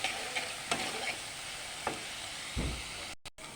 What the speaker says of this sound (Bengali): অল্প হলুদ গুঁড়ো দিয়ে ভালোভাবে কষে নেব মশলাটা